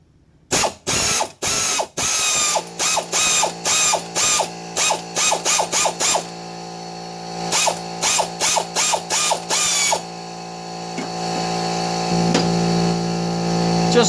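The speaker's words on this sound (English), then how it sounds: "if you access your air ratchet," An air ratchet spins a nut off the deck pulley spindle of a 2004 Troy-Bilt 809H Horse lawn tractor, firing in loud rapid buzzing bursts with short pauses between them, then settling into a longer steady whir near the end.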